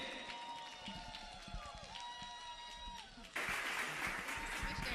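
Crowd applause welcoming Boston Mayor Michelle Wu at an AANHPI Heritage Month celebration, a dense wash of clapping and cheering that swells suddenly partway through, preceded by tonal music and voices, fairly distant and moderately loud.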